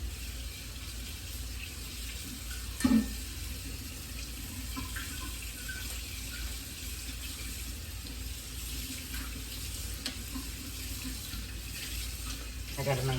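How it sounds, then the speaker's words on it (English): A kitchen tap runs steadily while a plate is washed in the sink, a constant close hiss of flowing water with one brief clatter near the start. "I'm going to wash this plate real quick."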